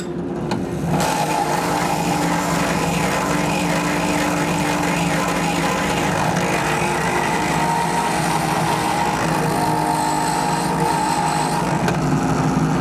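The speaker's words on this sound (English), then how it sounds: "take this little barrel sander and clean that finger notch out" A small barrel sander whines steadily at high speed, grinding a finger groove into a knife, continuously with a slightly wavering pitch for the whole stretch.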